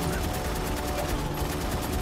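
Gunfire and battle noise from the PS3 shooter Haze form a steady, dense din of rapid shots that runs unbroken throughout.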